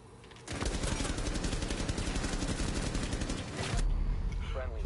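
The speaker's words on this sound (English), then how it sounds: "We were both shooting each other so much" Dense rapid gunfire from the tactical shooter game Rainbow Six Siege, sustained bursts filling several seconds after a brief lull, loud and close, with a second stretch of shots near the end.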